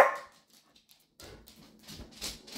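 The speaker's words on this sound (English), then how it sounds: "It's too early for barking." A border collie gives a short bark at the very start, then quiet follows, then softer whimpering and snuffling noises close by toward the end.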